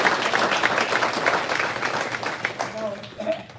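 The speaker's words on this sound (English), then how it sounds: "let's give them a big round of" Audience applause at a board meeting, a moderate patter of clapping from a room of people, with voices talking over it toward the end.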